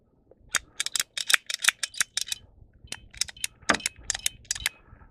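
Drip irrigation tubing being cut with cutters, a quick series of sharp, close snips and plastic clicks in an irregular rhythm, otherwise quiet.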